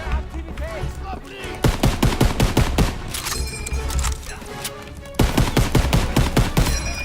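Bursts of rapid automatic gunfire and single shots from the World War II shooter Call of Duty WWII crackle loudly in quick clusters, with someone talking over them.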